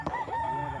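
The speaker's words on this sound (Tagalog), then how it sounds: "Ang daming manok oh. Puro manok." A rooster crows in a drawn-out, wavering call, with chicken sounds nearby and no talking.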